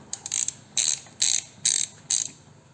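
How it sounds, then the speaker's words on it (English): A ratcheting torque wrench tightens Helibar handlebar riser bolts on a Honda Goldwing motorcycle, giving four short bursts of crisp clicking, evenly spaced and close by, with quiet pauses between. "now he's just got to torque these down"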